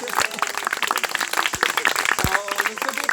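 An audience applauds a performance, a steady close patter of many hands clapping that continues throughout.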